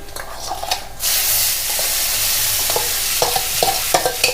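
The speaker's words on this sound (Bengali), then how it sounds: "এবার এই ডালটাকে মিনিট দুই ফ্রাই করতে হবে" Mashed masoor lentil dal fries in a pan over lowered gas after black cumin, giving a loud continuous sizzle with intermittent spatula stirring clicks.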